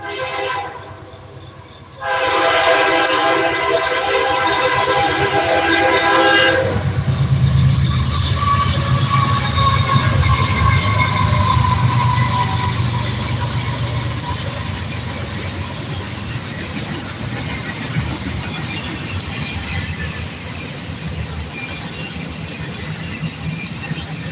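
A train horn blares loudly, then a heavy train rumbles past close by, its roar and rattling wheels slowly fading over many seconds.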